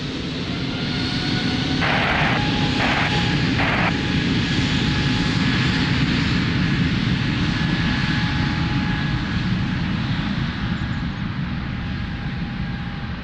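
An airliner takes off from runway 02 at Lisbon Airport with a loud, sustained engine roar at steady strength throughout, and a few brief faint tones early on.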